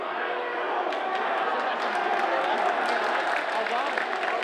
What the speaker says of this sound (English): if you hear the clapping